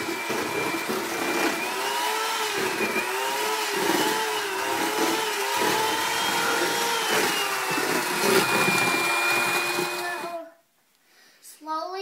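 An electric mixer whirring steadily through vanilla batter, a loud continuous motor drone with slight pitch wobbles that cuts off abruptly near the end.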